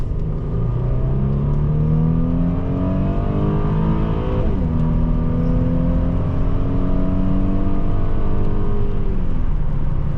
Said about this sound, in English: the engine sounds magnificent. It has a deep, subtle growl.